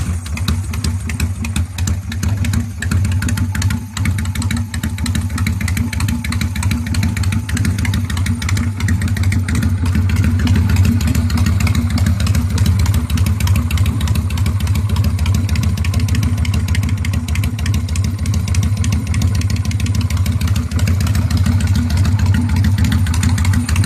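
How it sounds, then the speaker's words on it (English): A 600cc Cleveland Heist motorcycle with a single-pin-crank 52-degree V-twin idles steadily close by, a deep continuous rumble with an uneven loping beat running throughout. "Now that lope was not intentional. It's a single pin crank, 52 degree V-twin."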